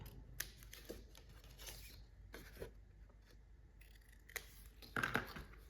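Quiet, close snips of scissors cutting paper corners, a few separate cuts with soft rustling between them.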